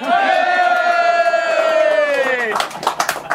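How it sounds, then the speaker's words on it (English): At a hunt camp, a group lets out a long, loud sustained cheer that holds for over two seconds. Scattered claps and short whoops follow close by. "You're cheering."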